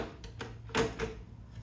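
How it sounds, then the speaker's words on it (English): An underside drawer pulled out inside a DIY minivan camper, giving a few soft sliding rumbles and a brief louder scrape near the end, close by and quiet, with no talking. "One was an underside drawer that pulls out like this."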